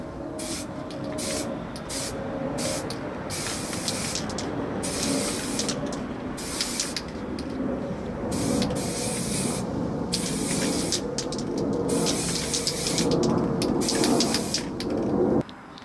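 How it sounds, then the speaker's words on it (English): Steady bursts of grey spray paint hiss close up on a model rocket, repeating with short pauses between passes for a long stretch, with a low background hum. "we're going to spray the whole thing grey"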